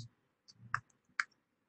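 A few soft, dry computer mouse clicks sound close and quiet, scattered irregularly in near silence.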